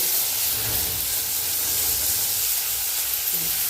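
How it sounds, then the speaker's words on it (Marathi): Tomatoes frying in oil for a bombil fish curry, a steady loud hissing sizzle that holds even throughout with faint low stirring underneath, no voices. "तर त्याच तेलामध्ये टमाटे टाकून होते"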